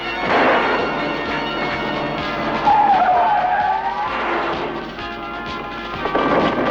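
A car skids out of control with failing brakes in a monster movie scene, a loud sustained roar of rumbling engine and screeching tires that swells, eases and surges again, with no talking over it.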